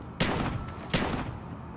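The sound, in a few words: gunshots behind the player in Call of Duty Mobile (video game)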